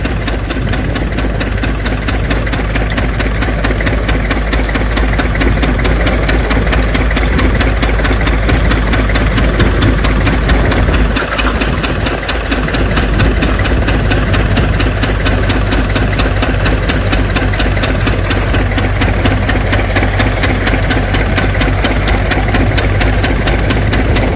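A farm machine engine runs steadily to dig out onions in a village field, a continuous loud mid-to-low rumble with a knocking idle character and no talk.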